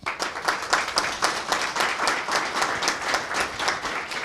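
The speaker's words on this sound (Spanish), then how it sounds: "María José y al profesor Máximo Calzado, para los cuales pido un fuerte aplauso." A small audience applauds steadily, a moderate patter of clapping hands that continues evenly for several seconds at middle distance.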